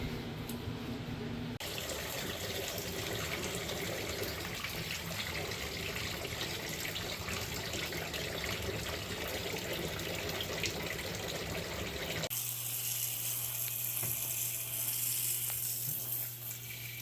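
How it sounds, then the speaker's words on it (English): Water drains steadily from a cooler holding soaking sheep hides, a continuous wash of splashing and trickling that stays even throughout, with a low hum entering near the end. "drain this out now, and we're going to fill it up again with clean water"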